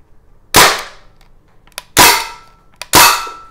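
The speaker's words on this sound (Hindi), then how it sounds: "हम एक और राउंड फायर करेंगे and will try to hit in the centre" Crosman DPMS M4 SBR semi-auto CO2 air rifle firing BBs at a target, three sharp, loud cracks spaced about a second apart, each followed by a quick decay, with faint clicks between shots.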